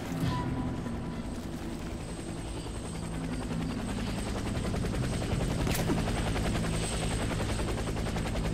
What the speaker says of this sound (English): Helicopter is inbound.